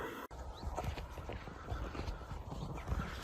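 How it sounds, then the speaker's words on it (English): A batch of horses in a field, soft irregular hoof and movement sounds close by, with a sharp knock near the start and a quiet outdoor background. "we found one last batch of horses"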